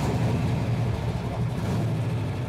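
A freshly fitted 468 engine in a step side pickup runs with a deep, steady rumble, loud and close, holding an even throb with no pauses.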